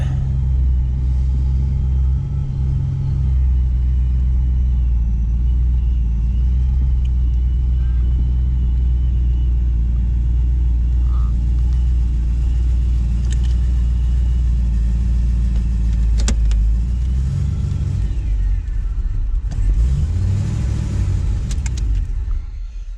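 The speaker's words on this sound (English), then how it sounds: "I just wanted to take you for a ride with me in the Caprice" A Chevrolet Caprice drives along a road, its engine rumbling loud and steady from inside the car, with a couple of revving surges near the end.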